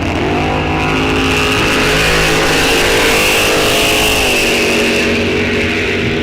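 Drag racing car at Rock Falls Raceway launching and tearing down the strip during a test-and-tune event, a loud, continuous engine roar with rising pitch, held close and steady throughout, with a brief shift in tone partway through.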